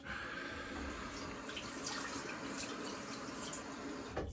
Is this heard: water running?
yes